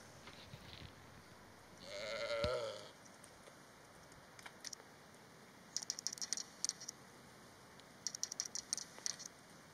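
A ewe bleats once, moderately near, during lambing as the lamb is born, set against a quiet background with scattered faint patters and rustles.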